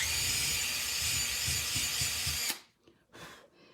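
A power drill whirs steadily for a couple of seconds into wood, close and loud, then stops abruptly, leaving a few faint clicks and rustles.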